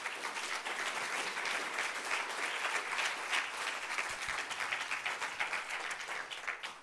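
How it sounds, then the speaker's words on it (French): Audience applause at a French science talk on the brain, sustained dense clapping that fills the room steadily for the whole stretch, loud and even without pause, no voices on top. "Je vais vous demander d'applaudir le premier d'entre eux, Monsieur Pierre-Marie Liédot."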